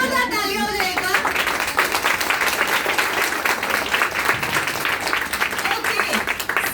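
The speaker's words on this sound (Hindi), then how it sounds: "तो जोरदार तालियां हो जाएगा।" Audience clapping loudly at a winter makeup and skin care event, dense continuous applause throughout, with a voice speaking briefly at the start.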